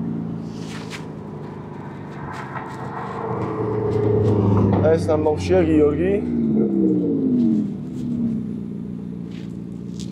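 A low, steady engine rumble from a car being driven in California, heard under people talking throughout.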